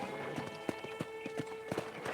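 Horse galloping in the Red Dead Redemption game on Android, a rapid irregular clatter of hoofbeats, fairly close and moderately loud, with faint talk in the background.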